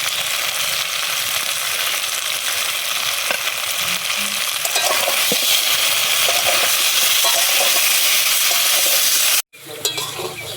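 Turmeric, salt and green chilli paste fry in a pan for a katla fish curry with taro, giving a loud, steady sizzle with stirring scrapes, then a sudden break and a brief clatter near the end.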